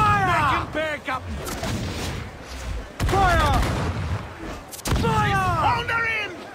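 Broadside cannon fire from a pirate ship battle in Assassin's Creed IV Black Flag, heavy booming volleys in three bursts with crew members shouting over and between the shots.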